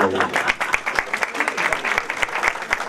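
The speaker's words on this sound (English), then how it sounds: "Give her a round of applause." Audience applause at a conference lecture, lively close clapping with distinct individual claps in a quick uneven rhythm, filling the short stretch, with a voice faintly mixed in.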